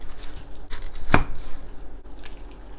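A knife cuts an onion into whole slices on a board. One sharp, loud chop stands out in the middle, with softer knife taps before and after. No one speaks.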